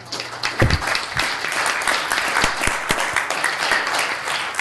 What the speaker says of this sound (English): Let's give him a grand applause